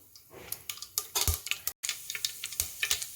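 Lentils and spices spluttering in hot oil for tomato rasam, a busy stream of sharp crackles and pops with light sizzling, close and lively throughout.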